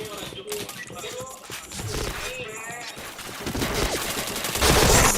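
Rapid bursts of game gunfire ring out in a fish-shooting video game, dense overlapping shots and electronic effects layered with game music, growing louder toward the end.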